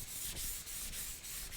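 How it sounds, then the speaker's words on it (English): A Suzuki motorcycle gas tank being hand-sanded with fine 320 or 400 grit sandpaper, a close, steady rasping with rhythmic back-and-forth strokes roughly every half second, with no speech. "You could use a more aggressive sandpaper, but then you've got to take the sanding scratches out"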